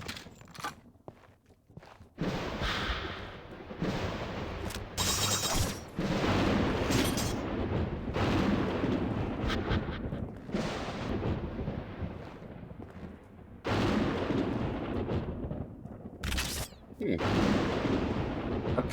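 Grenade explosions and gunfire boom in bursts through a fight in the video game Painkiller Resurrection, heavy blasts alternating with brief quieter gaps.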